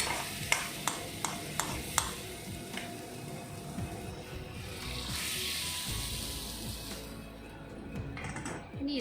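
Mustard seeds crackle and pop in hot oil while tempering for Kerala pumpkin erisseri, with a few sharp pops early on, then a steady close sizzle and stirring.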